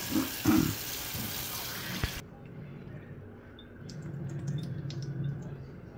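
Leaves of doddapatre (Indian borage) washed under a running kitchen tap, water splashing and trickling steadily with brief handling squishes near the start, then a softer continuous flow.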